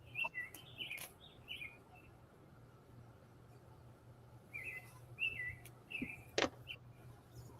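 Small birds chirp and tweet in short bursts at a moderate distance, with a low steady hum and faint background voices underneath.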